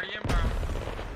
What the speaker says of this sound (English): That was a hell cannon right to our back left, just off frame.